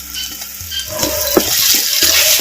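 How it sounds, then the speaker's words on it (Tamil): Ginger garlic paste sautéed in hot oil for a dry mutton curry gives a loud, close sizzle with repeated stirring scrapes and spatula knocks against the pan. "அப்படியே சேர்த்த இஞ்சி பூண்டு விழுதுகளை நம்ம பேரன் பாணியில் அப்படியே வதக்கு வதக்கு நல்லா வதக்கி"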